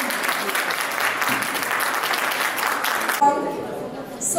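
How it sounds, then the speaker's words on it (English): Dense audience applause fills a dental and facial aesthetics conference hall, loud and steady for about three seconds before cutting off to quieter room sound with faint voices. "Please give a big round of applause for her."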